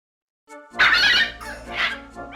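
In the video game The Legends of Mega Man, a dog barks and whines in a few loud, close bursts, with a brief tonal sound just before.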